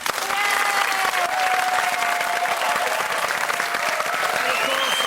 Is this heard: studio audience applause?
yes